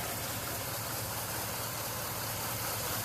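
Idling 2005 Chevy Silverado shop truck with a 5.3 LS non-flex-fuel V8, warmed up after about ten minutes of running: a steady, even rumble heard close and alone, without talk.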